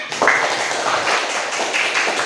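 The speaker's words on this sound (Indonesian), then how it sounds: "Tepuk tangan" Children in a classroom clap their hands together, a short burst of dense, close clapping with uneven bursts, loud and without talk.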